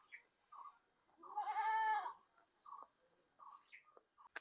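A goat on a farm gives one loud, wavering bleat lasting about a second, followed by softer short animal calls and faint scattered noises in an otherwise quiet setting.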